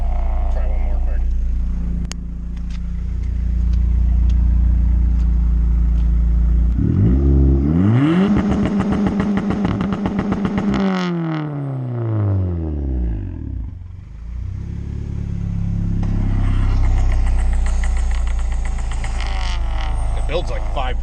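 Turbocharged Honda Integra GSR engine revving hard through a pull, rising and falling in pitch with a loud roar, then settling back to a rumbling idle while people talk over it.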